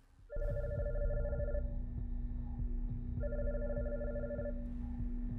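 In a video game, a telephone rings in two clear bursts of electronic trilling separated by a pause, over a steady low hum and background rumble.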